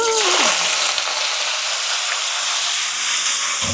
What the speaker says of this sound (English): now that's cooking. It ain't even on, but that's how hot the grease was, the oil was.